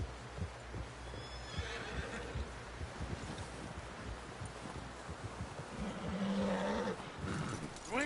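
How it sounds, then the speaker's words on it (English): A horse in Red Dead Redemption 2 whinnies loudly near the end over a steady background of rustling and shuffling noise, with softer movement sounds earlier. "Someone help John down off this horse."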